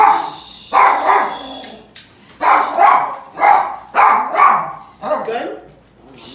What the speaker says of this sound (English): My dog always seems to bark for the pepper.